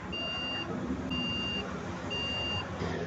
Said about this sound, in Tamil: உங்களுடைய கம்ப்யூட்டரில் இது போன்று பீப் சவுண்ட் மட்டும் வருகிறதா